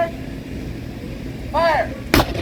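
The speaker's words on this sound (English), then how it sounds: "They shot the cannon right in front of Grapes and Grinds." A Civil War cannon loaded with a gunpowder blank fires at Harpers Ferry, one sudden loud outdoor boom that rolls off after a quiet wait, with a brief whistling tone just before it.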